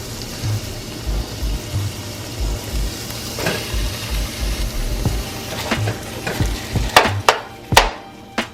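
Spaghetti and corned beef sizzle and fry in a pan, a steady close hiss broken by rhythmic stirring thumps and a few sharp utensil clicks toward the end.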